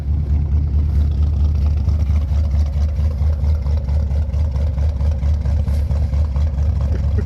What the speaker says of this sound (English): Gotta love cold idles like that, especially with the V8 with dual exhaust like this.